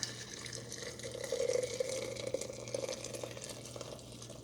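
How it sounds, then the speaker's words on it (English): Coffee enema liquid is poured into a jar, a steady, close trickle and splash of liquid running for several seconds over a faint low hum. "you're just going to pour it right into your jar"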